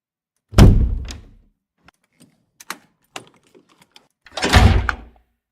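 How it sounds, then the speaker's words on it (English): Sound effect of a door shutting, taken from a stock library: two heavy thuds that open and close the stretch, with small clicks and taps scattered quietly between them, no voices. "Here on art list, door shutting."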